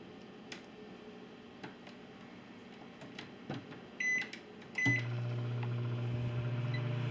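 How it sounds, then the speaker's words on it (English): A microwave oven is set and started to reheat keto cheddar biscuit dough with cheese. Scattered clicks and keypad beeps lead to a door thump, followed by the steady low hum of the running oven. "then I'm going to nuke it again for another 20 seconds"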